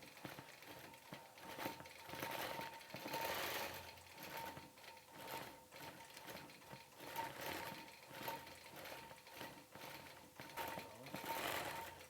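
Faint, steady whirring and rapid needle clatter from a sewing machine stitching an old antique quilt, running continuously with slight swells in speed.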